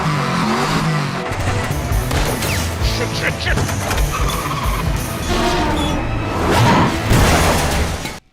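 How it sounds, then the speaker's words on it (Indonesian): A movie car chase ends with a car plunging off a parking garage level, loud engine roar, screeching tires and crashing impacts layered with dramatic music and a voice narrating over it. "Baby berhasil mendorong mobil yang Buddy kendarai hingga terjun bebas ke lantai paling bawah"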